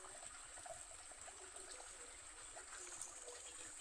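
Water running at a kitchen sink with a bamboo frame and a cut plastic gallon container while dishes are washed, a faint steady trickling stream throughout.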